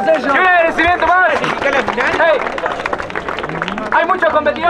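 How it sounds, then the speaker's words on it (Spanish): A crowd at a live competition final claps and cheers in a burst of applause, heard under an announcer's loud, excited voice that continues throughout. "¡Fuerte aplauso!"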